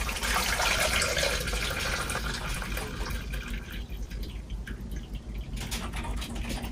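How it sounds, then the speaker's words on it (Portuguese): Water pours and splashes into a rice cooker pot in a kitchen, a continuous close rushing fill that softens and thins toward the end, with no voices. "Então você bota a água."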